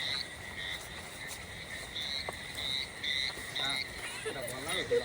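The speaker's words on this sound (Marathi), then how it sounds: "आवाज बघा बेडकांचा" A dense chorus of frogs croaking continuously at night, with insects trilling steadily behind them and a voice briefly audible near the end.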